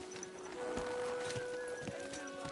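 Horse hooves clip-clop softly in Kingdom Come: Deliverance 2, with a faint whinny over a low game ambience.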